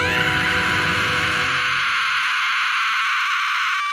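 A woman's long, piercing scream from an animated Family Guy scene, loud and sustained from the start, then thinning into a high shrill tail as the lower body fades out.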